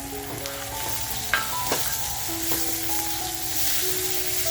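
Chopped tomato dropped into sizzling homemade masala for a Malvani crab curry, a soft steady frying hiss with a couple of sharp clinks of a spoon on the pan.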